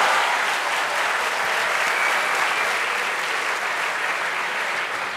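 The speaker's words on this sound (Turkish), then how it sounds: "Alkışlıyoruz." Studio audience at a Turkish talent show claps in sustained, thick applause, a loud even roar of many hands that holds steady from start to finish with no speech over it.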